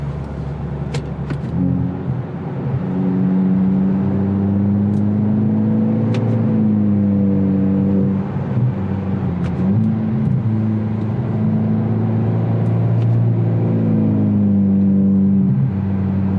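A Hyundai Elantra with its muffler deleted, driven in sport mode, its engine droning and rising through repeated revs, with loud, raspy exhaust tones climbing and falling heard from inside the car.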